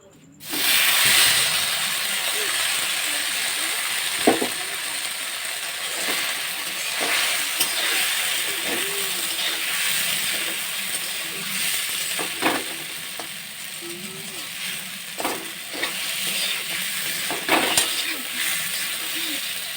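Soaked sago fries lightly in a pan over a low gas flame, giving a continuous soft sizzle and hiss for about twenty seconds, broken by occasional scrapes and stirring clicks.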